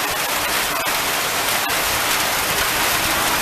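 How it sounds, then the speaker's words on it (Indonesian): Heavy rain pours down in a dense, steady hiss, drumming on surfaces with no letup and no voices. "Pada hari hujan deras."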